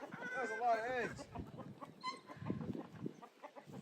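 Chickens cluck and squawk on a farm, with a bright, wavering call at the start followed by scattered clucks. A person talks throughout and nearly covers the birds.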